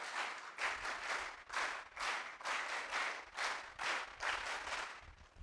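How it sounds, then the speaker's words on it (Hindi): An audience gives the 'veer tali' at a personality-development camp in an ashram: rhythmic bursts of group clapping in regular pulses, moderately distant, with no talk over it. "वीर ताली बजा दीजिए एक बार"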